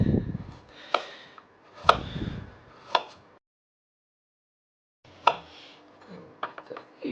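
Knife chopping carrots for a pea soup on a cutting board, sharp separate close knocks in short bursts, a gap of silence in the middle, then more quick chops.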